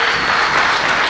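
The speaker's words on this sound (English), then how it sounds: "Can you give a special clap for them?" Dense, steady applause from an audience at a company team festival, many hands clapping continuously into a broad wash of sound, fairly loud and close throughout.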